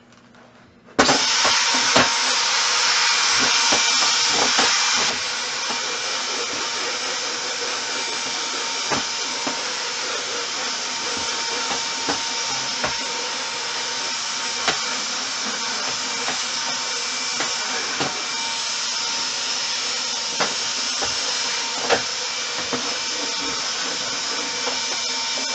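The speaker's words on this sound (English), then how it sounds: "we're going to take our little vacuum and we're going to vacuum it out" A small vacuum cleans crumbs out of a kitchen drawer, switching on with a loud, steady whine and whoosh that runs continuously, slightly louder at first, with faint knocks as the nozzle moves.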